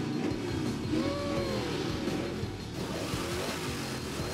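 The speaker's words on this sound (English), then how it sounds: "The Mustang actually didn't sound all that impressive." A yellow Ford Mustang race car engine runs with a steady, rough drone and slight revving, heard at moderate distance throughout.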